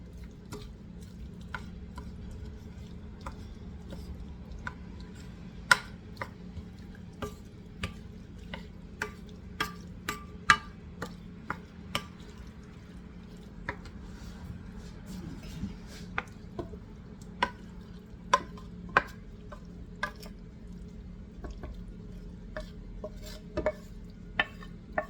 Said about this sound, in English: We're going to mix everything up that's in the frying pan